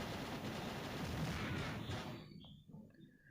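Rapid bursts of gunfire in a shooting video game, loud and dense like sustained automatic fire, then tapering off into quieter scattered shots and tails near the end; no talking.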